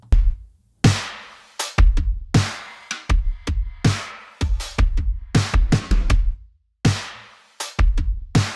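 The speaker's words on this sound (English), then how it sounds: "And this is the sound of the beat that we're going to play with." A punchy drum beat plays alone, with sharp kick and snare hits in a repeating groove separated by brief gaps.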